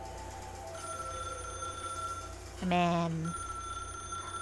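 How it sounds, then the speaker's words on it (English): A high-pitched phone ring in the video game Path to Nowhere, heard as a short burst of rapid trilling over quiet background music, with a voice speaking briefly. "you hear the high-pitched ring of a phone"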